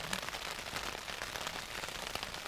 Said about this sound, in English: I'm just waiting this rain going off.